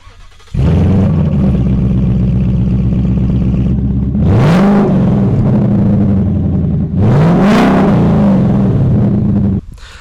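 A Ford Mustang GT with a newly installed Valve catback active exhaust fires up and settles into a deep, steady, loud idle rumble, blipped through two sharp rising revs before the engine shuts off.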